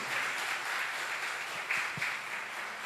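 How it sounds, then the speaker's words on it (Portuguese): Congregation in a church applauds in an even, sustained wash of clapping, fairly close and steady throughout, with no voices over it. "Eu queria convidar você, desde já, a levantar um aplauso ao Senhor"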